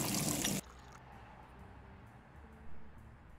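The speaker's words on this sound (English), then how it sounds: "for some reason, it wants us to use the sink to clean it" Water running from a tap into a sink in the Brewpub Simulator game while a glass is rinsed, a loud gushing burst that cuts off abruptly, followed by a faint brief trickle.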